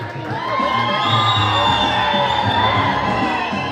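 A large crowd at a felicitation event in Mysore cheers and whoops loudly and continuously in a welcome. The voices form a dense, sustained roar with shouts rising above it.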